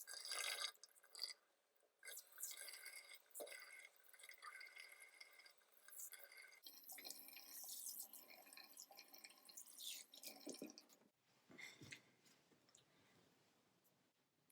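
Water from a tap splashes and drips as a face is rinsed at a bathroom sink, steady running water with close splashing and dripping that shifts in intensity, with no talking.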